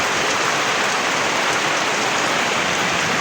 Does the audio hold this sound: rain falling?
yes